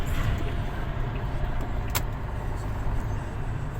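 A car drives over a road with a steady, loud engine and road rumble, a sharp thump near the middle marking a bump as it slows.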